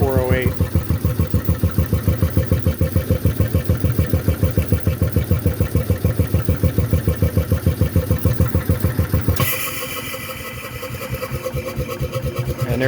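A generator engine idles with a steady, rapid low thrum at constant speed for most of the clip, loud and close, then the tone shifts and lightens toward the end, with no talking.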